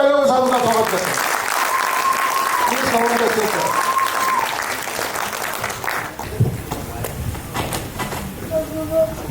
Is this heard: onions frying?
no